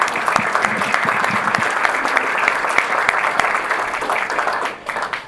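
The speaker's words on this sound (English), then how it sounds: "I'd like to give yourselves a round of applause." Audience applauding at an art gallery dedication, a steady dense wash of many hands clapping close by, continuous and fairly loud before thinning out near the end.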